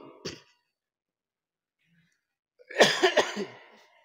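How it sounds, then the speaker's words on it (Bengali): A short burst near the start, then a cluster of harsh, rough coughs after a pause, fairly close and loud. "কাশিটা যখন উঠছে ভাই, খুব কষ্ট পেয়েছি"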